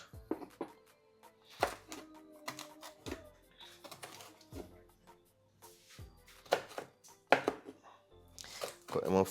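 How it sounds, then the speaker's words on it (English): Carrots being chopped on a board, a knife striking in sharp close thuds in short irregular runs, with a voice talking softly at times between the cuts. "Get some carrot. Let's chop them up."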